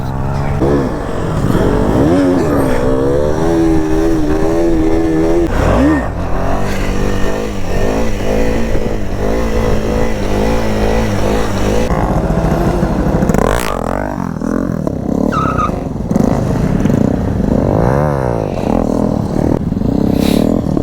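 KTM 250 motorcycle engine revving hard during wheelie stunt training, a loud continuous roar with rising and falling pitch sweeps, near and steady throughout.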